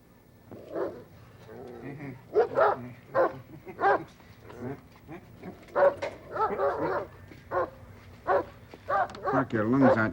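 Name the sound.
dogs barking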